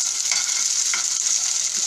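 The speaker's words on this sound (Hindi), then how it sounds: "मटर को तकरीबन 5 मिनट फ्राई करेंगे।" Green peas fry in oil in a pan for a mix vegetable dal, giving a bright, steady, close sizzle with a few soft stirring knocks.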